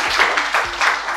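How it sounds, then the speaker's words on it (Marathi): People at a patient and family advisory council meeting clap briefly for a doctor, a short close burst of applause with distinct individual hand claps. "त्याच्याबद्दल आपण सगळ्यांनी टाळ्या वाजायला पाहिजे"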